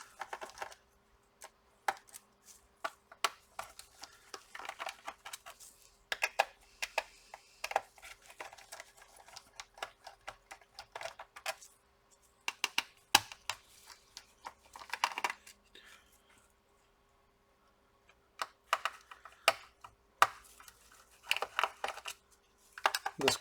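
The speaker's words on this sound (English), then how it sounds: "Now we have to remove all the screws on the back." A screwdriver works screws loose from the back cover of a Sony Vaio PCG-7D2L laptop, giving irregular close clicks, taps and small metallic rattles broken by short quiet gaps.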